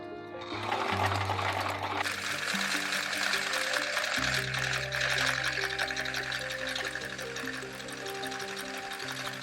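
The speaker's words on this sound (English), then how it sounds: "I am also zigzagging my lining, the edges of my lining." Sewing machine zigzag stitching along the edges of a bag lining, a steady close-up whirring rattle that runs continuously with slight shifts in pitch and speed.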